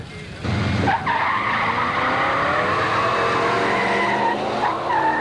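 Drag race between a 454-powered Chevy and a 1930 Model A Ford, a loud engine roar and tire squeal that begins abruptly and holds steady for several seconds as the cars launch and pull away.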